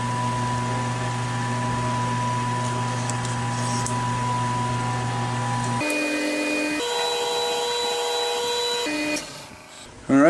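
A buffing wheel spins against a turned pen with a steady motorized hum and whine that shifts pitch partway through, then fades and stops near the end.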